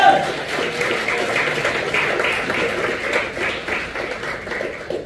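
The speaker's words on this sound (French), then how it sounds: "applaudis Jésus pour ça" A French-speaking church congregation applauds Jesus, a sustained wash of clapping at moderate level with a faint murmur of voices beneath.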